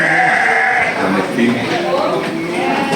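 A goat bleats loudly up close in a wavering call, followed by further quieter bleats and some farmyard background noise.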